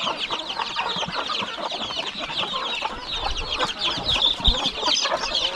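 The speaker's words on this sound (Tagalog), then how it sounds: "Tingnan nyo po yung mga sisiw natin dito" Chicks kept in a farmyard peep and cluck continuously, a busy high-pitched chorus heard close up with no talking.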